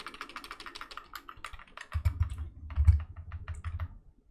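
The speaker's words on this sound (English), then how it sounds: "just spamming the delete key on my keyboard at the moment." Repeated key presses on a computer keyboard during a PC build, a fast series of light clicks, close and fairly quiet, joined partway through by a low rumbling hum.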